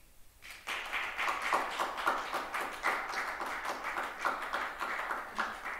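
Steady applause from a live audience, many hands clapping densely and continuously at a stage show, starting abruptly and holding at an even level.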